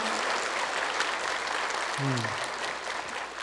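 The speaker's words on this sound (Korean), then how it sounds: "격려의 박수 한번 부탁해요." An audience gives a round of encouraging applause at a Korean talk, dense, even clapping that holds steady for the whole stretch, with a brief voice fragment surfacing midway.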